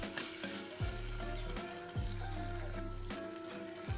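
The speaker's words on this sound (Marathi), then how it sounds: "आणि खालवर करून परतून घ्यायचं." Onion and tomato stir-fried in oil in a pan for a brinjal curry: a steady close sizzle, with a spatula scraping and turning the mixture every second or so, and no voices.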